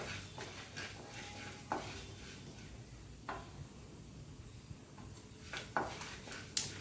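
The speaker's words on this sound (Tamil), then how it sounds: "எல்லாம் சேர்ந்து நல்லா ப்ரௌன் கலரில் ஆகிற வரைக்கும் நல்லா வறுத்துக்கோங்க" Carrot upma ingredients sizzle quietly in a pan while a spoon stirs them, with soft scraping and a few sharp clinks of metal against the pan rim over a faint steady frying hiss.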